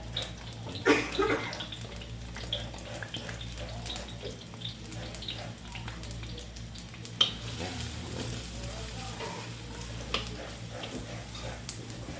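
Onions sautéing in a pan for pancit bihon give a continuous soft sizzle, with occasional stirring scrapes and knocks nearby and no clear talking.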